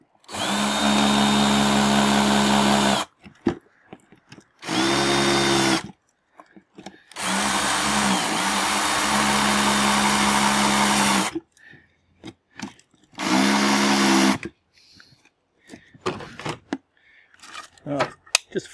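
A power drill boring small drainage holes through the bottom of a container runs in several loud, close bursts of a few seconds each, separated by pauses filled with quieter handling noises.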